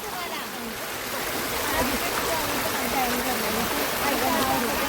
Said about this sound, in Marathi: भारी वाटते ना ओढा. बघा पाणी कसं होते बघा.